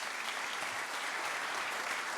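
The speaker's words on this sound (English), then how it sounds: "So please do give our panel a round of applause." Applause from the audience for the panel at a Belfast Pride anniversary debate, a dense, even wash of clapping sustained throughout the brief moment.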